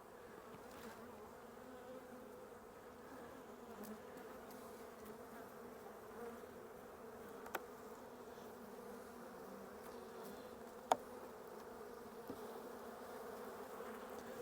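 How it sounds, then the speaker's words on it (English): Honeybees hum steadily in a low, continuous drone around an open hive during a spring inspection, with a few faint clicks and knocks over the buzzing. "the bees look really good"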